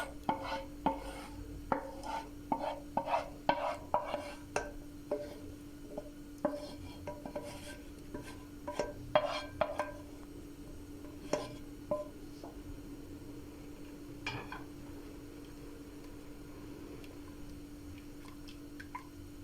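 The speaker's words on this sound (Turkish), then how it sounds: "Gördüğünüz kıvama gelene kadar karıştırıyoruz." A spoon stirring lentil soup in a pot, giving repeated soft wet scrapes and ticks in an uneven rhythm over a steady low hum, close and fairly quiet.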